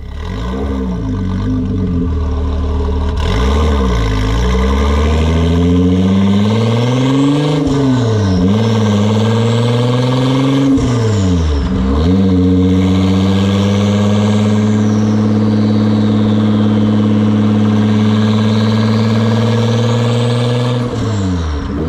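A car with a Renault 3-litre turbo engine and modified exhaust revs loudly and close by, the engine note climbing and dropping in repeated throttle blips over a steady rumble, with no voices.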